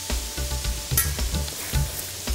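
Chopped tomatoes with ground cumin, coriander and turmeric sizzle loudly in hot oil, a close, continuous frying hiss with soft bumps of stirring.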